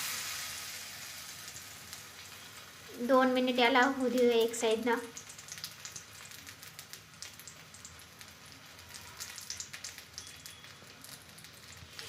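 Bread slices dipped in spicy batter hit an oiled tawa with a loud sizzle that bursts up at once, then settles into a steady low crackle of frying while someone talks over it.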